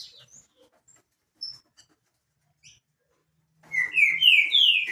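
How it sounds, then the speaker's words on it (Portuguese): A caged Tranca-Ferro songbird at a breeder's home, faint scattered chirps and then a loud, clear run of descending whistled notes near the end. "Ó, o Tranca-Ferro tá cantando aí."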